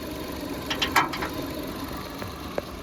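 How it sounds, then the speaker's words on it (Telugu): A car engine idles steadily at close range with the bonnet open, a low even rumble with a few light mechanical ticks and clicks over it. "నేనైతే ఇంజన్ అయితే స్టార్ట్ చేసిన"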